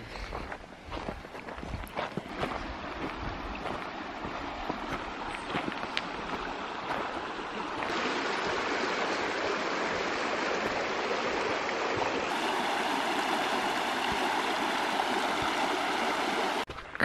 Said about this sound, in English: Oh, I think we're coming up to the creek.